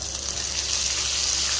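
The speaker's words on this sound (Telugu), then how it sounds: "ఇలా ఫ్రై అయ్యాక ఇప్పుడు టమోటాలు వేసేద్దాం" Tomatoes sizzle as they fry in hot oil with curry leaves for vegetable sambar, a steady, close crackling hiss with no voices.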